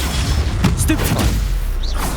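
A Confringo fire spell blasts during Hogwarts Legacy combat with loud, booming bursts amid a busy game soundscape, while a voice calls out over the action.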